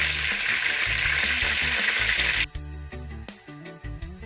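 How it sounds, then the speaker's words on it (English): Turkey necks browning in a hot frying pan for Jamaican stewed turkey neck, a loud, dense sizzle that cuts off abruptly midway, followed by quieter crackles and pops from the pan. "I'm gonna take out some of these and put in some fresh ones. Just to brown them up a little bit"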